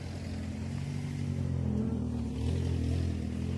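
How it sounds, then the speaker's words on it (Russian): Cars passing along a seaside road in the morning: a low engine rumble and tyre hum that swells as vehicles go by, fairly faint and with no talking over it. "С утра едут машины"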